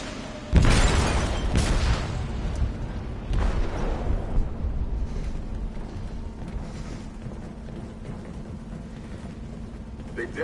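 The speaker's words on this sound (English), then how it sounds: "They detonated an explosive in the hole." A detonation set off in a hole during the game Detroit: Become Human opens with a sharp, loud boom followed by heavy rumbling aftershocks and a second blast, then a long low roar fading slowly under a steady hum.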